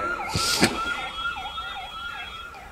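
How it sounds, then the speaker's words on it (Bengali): An ambulance siren wails in a steady repeating up-and-down pattern at moderate distance, with a couple of sharp knocks near the start. "ডানে কি অ্যাম্বুলেন্স যাচ্ছে"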